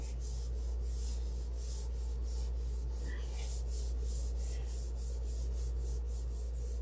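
Steady abrasive rubbing and sanding by hand on a thin wood finish, a continuous scratchy swish with a faint rhythmic pulse, close and alone with no voices.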